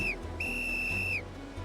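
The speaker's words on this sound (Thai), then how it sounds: "อุปกรณ์ดังกล่าวยังมีนกหวีด เพื่อดึงดูดความสนใจของผู้ช่วยเหลือในสถานการณ์วิกฤตอีกด้วย" Safety whistle on a Kingii inflatable water rescue device, one short shrill blast followed by a longer sustained piercing tone, loud and alone.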